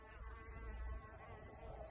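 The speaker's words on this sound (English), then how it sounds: "All these bees buzzing around." A steady, faint, high insect drone in an old stone ruin under roof repair in Portugal, continuous and unbroken with a low background rumble and no voices.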